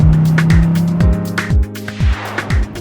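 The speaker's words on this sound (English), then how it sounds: "The examinees drive their cars through 4 booths." A car moves slowly through a row of drive-thru Covid-19 screening booths, its engine giving off repeated rising and falling pulses, some with a brief squeal, heard close with no talking.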